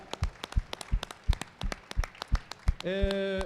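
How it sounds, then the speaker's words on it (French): Applause at a sports communication trophy partners' evening as two winners are presented, heard as a run of distinct, fairly close hand claps, ending in a brief sustained tonal sound at the close. "Les deux gagnants, Sylvie, Stéphane, applaudissements s'il vous plaît."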